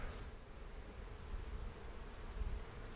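Honeybees drone steadily around beehives, a soft continuous buzz that stays faint and even throughout, with a slight breezy hiss and no voices.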